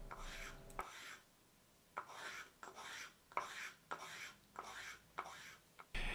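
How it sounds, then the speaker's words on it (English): Hot glue fishing lures are sanded smooth by hand in a run of short rasping strokes, about eight scratchy passes with brief pauses between them, close and fairly quiet. "I decided it doesn't really hurt if I actually sand them down and make everything nice and smooth"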